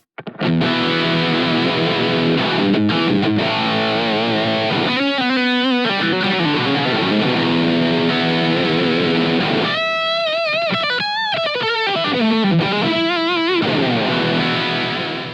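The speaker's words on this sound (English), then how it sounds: "So the sound that I've got up here is sort of trying to recreate the high gain rhythm sound that I'd use" A high-gain electric guitar plays a rhythm part through a Yamaha THR10X amp, with heavily distorted chords and chugging palm-muted bursts, loud and continuous, with no talking.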